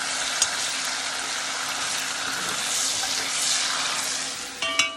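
Steak sauce with onions and mushrooms sizzles loudly and continuously in a pan, a dense close hiss with a few clinks of a utensil near the end.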